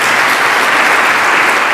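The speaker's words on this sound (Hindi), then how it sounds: "ताली बजाओ गुड़िया के लिए" Sustained applause from a college audience clapping for a female student, dense and steady throughout with no talk.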